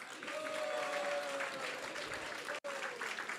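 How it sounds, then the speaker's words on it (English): A temple audience at a Narasimha Chaturdashi festival applauds steadily for a few seconds, a dense wash of clapping with a brief break near the end before it resumes. "please give a big round of applause for yourself"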